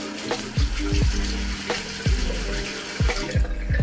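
A safety razor is rinsed under a running tap, giving a steady close splash of water with a few sharp metallic knocks against the sink.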